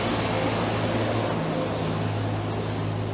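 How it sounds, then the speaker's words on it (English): Loud, continuous broadband roar of a passing street cleaning vehicle's engine, close by and steady, with no voices over it. "They're very noisy, these bloody street vehicles."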